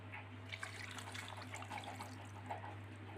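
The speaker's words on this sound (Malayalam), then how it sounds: "ഇതിന് കുറച്ച് വെള്ളം ഒഴിക്കണം വേകാൻ വേണ്ടി." Water runs steadily from a tap into a pot while beef kurma cooks with crushed garlic and curry leaves, a continuous splashing stream over a low steady hum.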